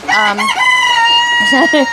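Backyard chickens cluck while a rooster crows loudly and close by, several bright, drawn-out calls overlapping within a couple of seconds.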